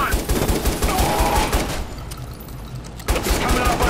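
Bursts of gunfire in Watch Dogs, rapid loud shots in a rough stuttering rhythm that stop briefly and then start again, with a voice talking faintly underneath.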